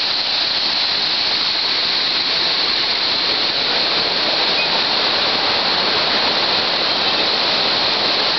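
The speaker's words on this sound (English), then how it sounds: "More water come down there." Whatcom Falls in Bellingham, Washington, roars as a steady, loud wash of falling water, unbroken and close, with no voices over it.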